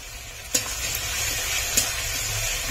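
Ginger and garlic paste sizzle in a hot pan, a steady close crackling hiss with a couple of sharp spatters or stirring clicks along the way.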